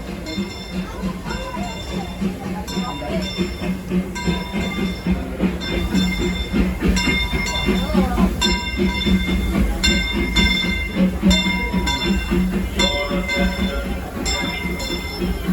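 Disneyland Railroad steam train pulling into its station at Disneyland, a steady rumble with rhythmic mechanical clatter and ringing tones, loud and close, mixed with a public-address announcement and crowd voices.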